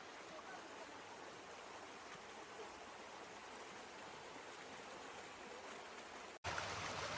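Floodwater after Storm Zoltan rushes through a flooded Hamburg street where the Elbe overflowed its banks, a steady, loud, dense roar of flowing water with no pauses and no voices.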